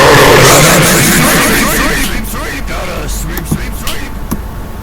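A vacuum-cleaner character sweeps past the player in the horror school game Baldi's Basics, a loud broadband whooshing rush that fades over a few seconds, followed by scattered game pops and bumps.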